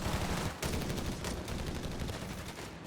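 Rifle gunfire crackles in a Company of Heroes 3 battle, a dense rapid stream of shots with a few sharper bursts, heard alone without voices.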